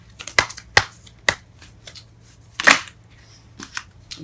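Tarot cards are shuffled and drawn, heard as a few sharp, close card snaps and slaps spaced apart, then one longer riffling burst and softer handling noises.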